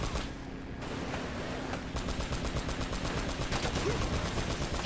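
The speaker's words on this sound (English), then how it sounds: "I just gotta shoot the guys at the back and stuff" Rapid gunfire in Uncharted: Drake's Fortune as enemies are shot, with dense bursts of automatic fire and scattered shots, loud and continuous with game sounds and a voice talking underneath.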